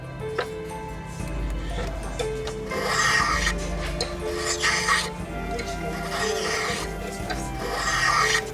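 Surface of an old violin being smoothed by hand in a repair workshop, a close continuous rasping rub with rhythmic strokes over a low background hum.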